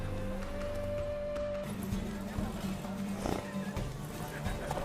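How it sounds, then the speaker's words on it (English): Horses' hooves clatter in a steady rhythm during a race in The Witcher 3: Wild Hunt, beneath an ongoing bed of music and ambient noise, with a voice speaking over it. "The horses are saddled."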